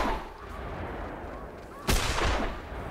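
A shotgun fires at snow geese in The Hunter Classic hunting game: one loud, sharp blast with a short rumbling tail, following a quiet stretch.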